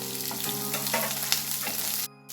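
Chopped onion and capsicum sizzle and crackle in a hot pan for chilli paneer, with scraping stirs throughout, close and steady, then a brief drop near the end.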